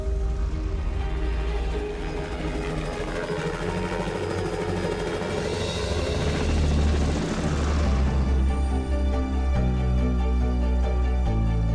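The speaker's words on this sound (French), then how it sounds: "louer un hélicoptère pour les transporter" A loud, continuous helicopter engine and rotor drone fills the whole stretch, steady and close, with a tonal music-like layer joining near the end. Recorded in rural China.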